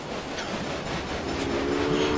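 A freight train hauling wheat in Railway Empire rumbles along with a continuous close roar of wheels on track and faint rail clatter, steady and alone.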